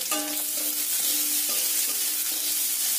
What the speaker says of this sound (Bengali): ভালো করে ভাজা ভাজা করে নিতে হবে